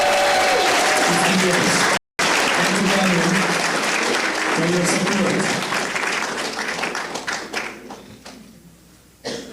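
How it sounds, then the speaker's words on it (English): Crowd at the Jamaica Brew Festival claps loudly and continuously, close and dense, with someone speaking over it before the applause thins and tapers into scattered claps. "Let's give them a round of applause."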